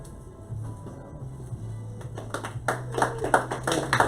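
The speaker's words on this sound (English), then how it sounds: "I wasn't expecting a hand clap" Spontaneous hand clapping grows over a steady low hum at the close of a prayer during an interview, starting faint and becoming denser and louder, like a small group applauding nearby.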